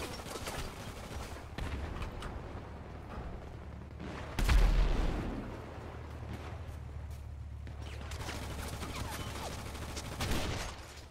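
Dense gunfire from several weapons in a FiveM King of the Hill match: overlapping shots and rapid bursts run throughout, with a heavier close blast near the middle and another toward the end.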